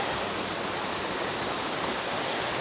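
A Black Forest waterfall roars as steady, dense rushing water, continuous and fairly loud, with no voices over it.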